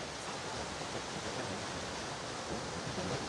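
Water pours at Tungareshwar waterfall as a steady, loud, broadband rush with no breaks and no voices.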